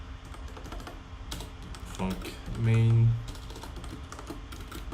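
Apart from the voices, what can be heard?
typing on a computer keyboard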